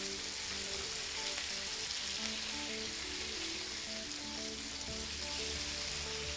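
Halibut fillet fries in a pan, Kerala style, after being flipped, giving a steady, dense sizzle that holds close and even throughout with no talk over it.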